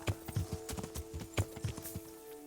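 Horse hooves clip-clop in Kingdom Come: Deliverance, a steady run of fairly close, distinct hoof strikes over a soft background hum, with no talking.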